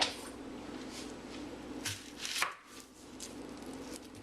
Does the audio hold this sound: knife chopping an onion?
yes